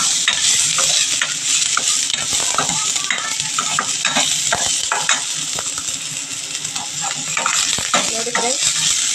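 Onion and green chillies frying in hot oil for a drumstick-leaf dish, a continuous sizzle with repeated scraping and stirring clinks of a spatula against the pan, close and steady throughout.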